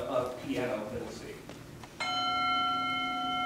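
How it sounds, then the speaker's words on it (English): A recorded bell tone from a contemporary percussion composition sounds at about two seconds and rings on steadily with sustained shimmering partials, after a stretch of speech. "You'll hear the bell tone first, and then a piano middle C."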